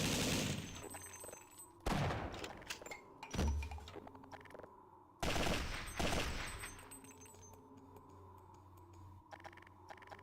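Video game gunfire from a Tech 9 pistol: a few loud, sharp bursts of rapid shots followed by decaying echoes and quieter mechanical clatter between volleys.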